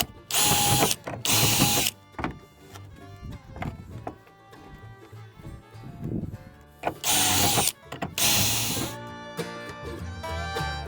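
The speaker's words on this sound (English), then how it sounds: "I'll drill these into the metal handles first" Drill boring 1/8 inch holes into metal handles made from old saw blades, two loud whining bursts near the start and two more near the end, separated by quieter workshop handling.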